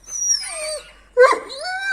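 A Çapar breed dog whines close by in two high, wavering cries, the first drawn out and falling, the second sharper and rising, with a short pause between them.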